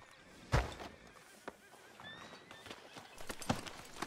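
Horse hooves clopping on a town street in the video game Red Dead Redemption 2, a few scattered hoof thuds and a snort over low ambient noise, fairly faint and unhurried.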